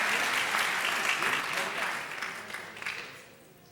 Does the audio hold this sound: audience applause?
yes